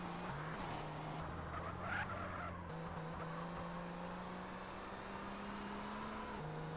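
A car engine in the video game GTA San Andreas hums at a steady pitch, rising and shifting slightly as it drives, with brief tire squeals, under a constant mechanical drone.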